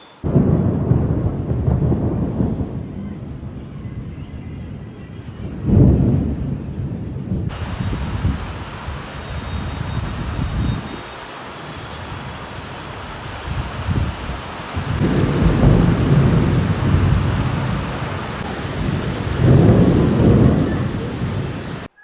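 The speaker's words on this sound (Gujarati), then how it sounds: "અત્યારે ફૂલ વરસાદનો માહોલ છે અમારી સુરત સિટીમાં બહુ જોરદાર વરસાદ આવેલો" Heavy rain pours down in Surat city with thunder rumbling again and again, a loud, steady downpour with deep rolling peaks that rise and fade throughout.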